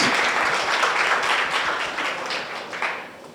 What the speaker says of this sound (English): can we give a round of applause to our folks?